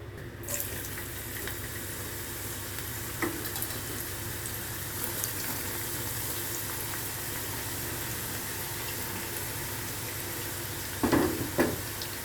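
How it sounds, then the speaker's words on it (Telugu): Bitter gourd frying in garlic chili masala, a steady dense sizzle like running water that continues throughout with a couple of faint knocks near the end. "ఇది కాకరకాయ ఎల్లిపాయ కారంలో ఇది ఫ్రై చేసి గారెల్లాగా చేస్తానండి"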